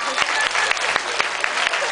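A crowd applauds at a Taiwanese magician's stage show, a dense steady wash of clapping with a few sharper individual claps standing out, close and loud throughout.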